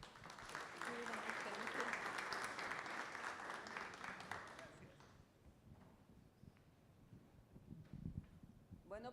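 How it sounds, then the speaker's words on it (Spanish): Lecture audience applauds a chemistry researcher at a university talk, dense clapping for about five seconds that fades out, followed by quieter room noise, faint thumps and a voice starting to speak. "Un aplauso, por favor"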